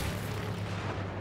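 Grenade explosion in the Star Wars Battlefront video game, a single deep booming blast with a heavy low rumble that fills the short moment, no talk.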